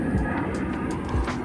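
A plane passing overhead, heard as a steady broad engine roar that holds at a fairly even level throughout, with no talk.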